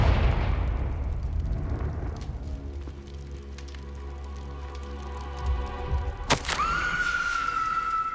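A Confringo blasting spell explodes in the video game Hogwarts Legacy: a deep rumbling blast fades out, then a sharp, loud crack strikes and leaves a sustained ringing tone.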